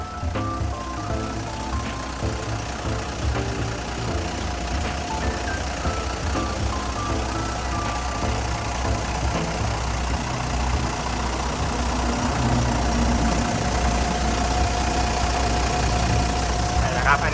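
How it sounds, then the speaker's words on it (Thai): The Isuzu 6BG diesel engine of a Hitachi LX110-7 wheel loader idles steadily with a low, continuous rumble and mechanical clatter, close by and unchanging for the whole stretch. "ตัวนี้นะครับเขาใช้เครื่องยนต์เป็นตัว 6BG นะครับ"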